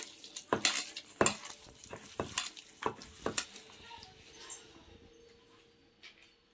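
Chicken pakoda mixture is mixed by hand with oil in a bowl, a series of wet squelching slaps and clinks fading toward the end, with no talking.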